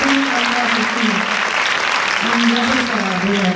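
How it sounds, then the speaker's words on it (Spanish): Audience clapping at a talk in Argentina, dense and loud throughout, with a low voice or murmur riding faintly beneath the applause. "aplausos para el centro"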